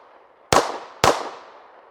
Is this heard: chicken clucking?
no